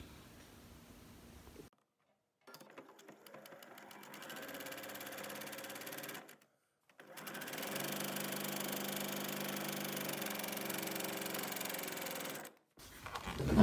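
A sewing machine runs a scant quarter-inch quilt seam in three close, steady bursts separated by short pauses, the motor hum loud and even with no voices.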